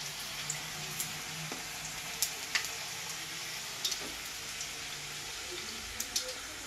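Panch phoron five-spice seeds frying in a kadai, giving faint, sparse crackles and occasional sharp pops over a low, quiet background hiss.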